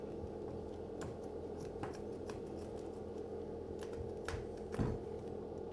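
Scissors snipping excess fabric off a latex LARP sword: a few soft, close cutting clicks and rustles spread over several seconds, quiet against a steady low background hum, no speech.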